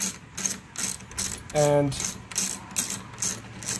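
Rapid rhythmic clicking of a socket ratchet turning a Glock sight pusher, close and crisp in repeated bursts, with a brief spoken word in the middle.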